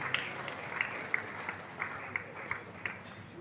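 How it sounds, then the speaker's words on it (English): A crowd at an investiture ceremony in Lagos claps steadily in a reverberant hall, a sustained rustling applause with a few sharper claps standing out, heard at moderate distance and fairly faint. "Please give me a round of applause, please."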